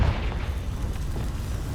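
A Confringo spell bursts in Hogwarts Legacy, a deep rumbling blast with a heavy low boom at onset that rolls on steadily for under two seconds, loud and alone.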